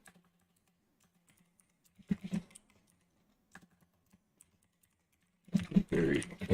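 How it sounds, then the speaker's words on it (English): Two short bursts of computer keyboard typing, one brief flurry near the start and a denser, louder run at the end, over a low steady hum with a few isolated clicks between. "So let's get this typed out."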